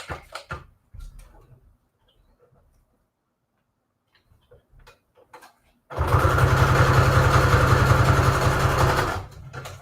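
Scattered handling clicks and taps, then a sewing machine runs a zigzag stitch across a junk journal collage, giving a loud, steady mechanical whir with rapid rhythmic ticking for about three seconds before stopping.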